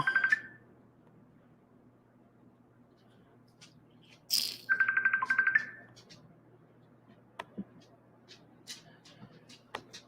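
A phone goes off with short bright electronic chirps, a tone at the start and a longer warbling alert near the middle, fairly close between quiet stretches of room noise.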